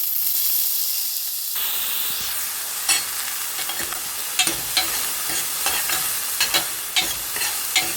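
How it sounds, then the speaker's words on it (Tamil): Chopped onion sautés in hot olive oil for a macaroni soup, a steady close sizzle under scattered sharp clicks and scrapes from stirring. "இப்போ வெங்காயம் கொஞ்சம் வதங்கி இருக்கு"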